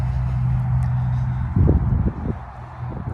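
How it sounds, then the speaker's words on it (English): Road traffic passes behind a building beside a quiet cemetery: a steady low rumble, with a louder vehicle swell rising briefly partway through before settling back to a distant hum. "so you can hear all the cars and traffic going by"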